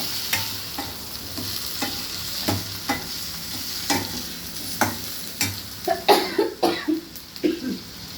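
Tomatoes fry in a pan with a steady background sizzle, punctuated by repeated sharp scraping stirs that come every half second or so and quicken toward the end, close and distinct.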